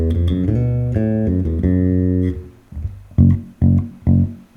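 Electric bass playing a chunk of a riff, a run of clear sustained notes followed by three punchy separated hits, close and alone with no talking.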